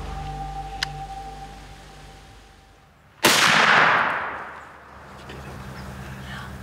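A single loud rifle shot from a .350 Legend during a deer hunt, a sharp crack with a long rolling echo fading outdoors over a couple of seconds.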